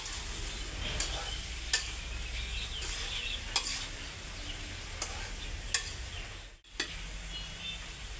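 Vegetable curry seasoned with cumin powder, coriander powder and salt being stirred in a pan, with a constant frying hiss and occasional light clicks of the spoon at roughly regular intervals.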